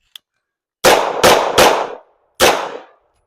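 Four loud handgun shots at close range during a defensive shooting drill: three quick shots in a tight burst, then a short pause and a single final shot, with a tiny click just before.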